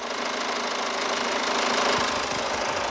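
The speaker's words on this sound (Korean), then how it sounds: "엔진 소리는 아마 벌써 들릴 거예요" A Hyundai Santa Fe CM 2.0 diesel engine, older and high-mileage, idles close by with the hood open, a steady, rough knocking rumble and a broad mechanical hiss, unbroken for the whole stretch.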